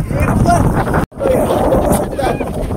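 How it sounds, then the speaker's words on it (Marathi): Strong wind buffets the microphone outdoors on a hill-fort trek from Panhala to Pavankhind, a steady, roaring rush, briefly cutting out before gusting on. "हवा बघा कसा वारा आहे"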